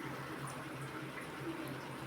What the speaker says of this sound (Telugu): పులుసు బాగా ఉడుకుతున్నదండి.